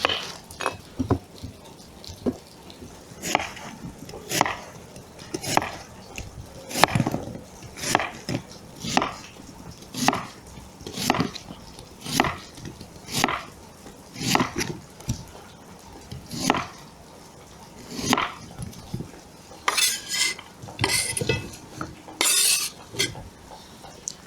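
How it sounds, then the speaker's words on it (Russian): Steady knife chops slicing an onion into half rings on a cutting board, one crisp stroke roughly every second, close and distinct, with a few quicker clustered cuts near the end. "Лук нарезаем полукольцами"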